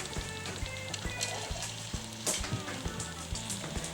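Chunks of garlic and onion sizzle steadily in a very hot cast iron pan for pot roast, a bright continuous crackle with intermittent louder spits and a few soft utensil knocks, no voices.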